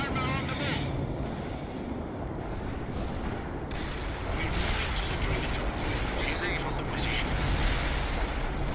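Tank cannons firing HEAT shells in the World in Conflict video game, heard as dense, continuous battle rumble with blasts and explosions under a steady wash of combat noise, with a voice speaking over it.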